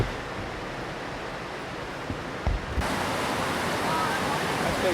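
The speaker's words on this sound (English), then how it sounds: "There's a big waterfall up there." A big waterfall at Shin Brook Falls roars as a steady broadband rush that swells louder partway through, with a few brief knocks and bumps nearby.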